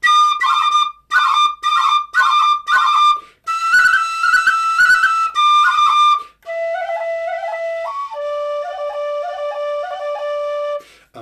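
Pistachio wood tin whistle played solo and close, first a run of short repeated ornamented notes, then a longer lilting phrase of clean, sustained tones.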